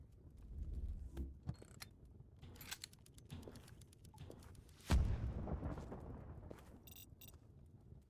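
TNT going off in the video game Creativerse: a sudden mid-volume blast with a rumbling tail, set among scattered clicks, footsteps and rattling game sounds, with no talking over it.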